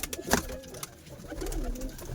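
Madrasi pigeons in a loft give soft, throaty coos, a couple of low rolling calls close by, with brief wing flutters and light rustling and no talking.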